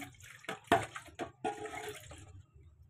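Water splashes and sloshes in a few quick, uneven bursts, close by and fairly quiet, with no one talking.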